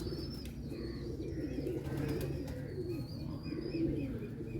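Pigeons kept for flying coo in soft, low, rolling calls that repeat throughout, with faint chirps and background bustle around them and no voices.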